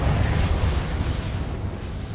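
Confringo explosive spell in Hogwarts Legacy going off as one loud, dense, roaring blast that fills the whole moment and tails off slightly, with no talking over it.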